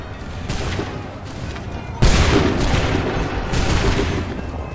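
Musket volley gunfire in Assassin's Creed 3 erupts in dense, overlapping bursts of shots, with one loud close crack partway through and a sustained fusillade rolling on behind it and rising again toward the end.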